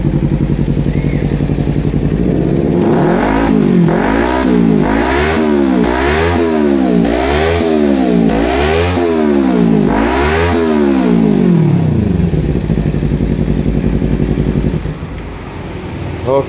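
A 2014 Kawasaki Ninja FI ABS motorcycle fitted with a racing exhaust revs up and down about eight times in a steady rhythm. It sounds loud and close, then settles to idle near the end.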